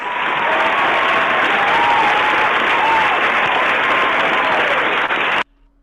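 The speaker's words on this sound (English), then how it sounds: "some applause." A burst of applause at a women in franchising event, loud and dense clapping that runs steadily, with a faint voice underneath, then cuts off abruptly near the end.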